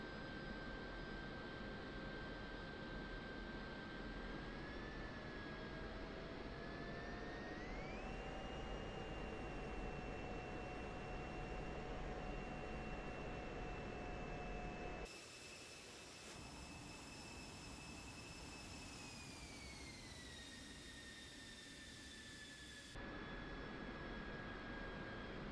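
An F-16C jet engine runs in the DCS flight simulator, a loud, steady roar with a whining turbine tone that climbs as the throttle is snapped to military power, holds, then winds back down toward idle, with no voices.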